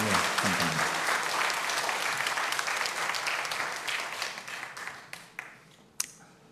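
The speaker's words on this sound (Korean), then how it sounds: "예, 박수를 한번 칠랍니다." A church congregation breaks into warm applause, a loud dense burst of clapping that thins out into a few scattered claps and then stops.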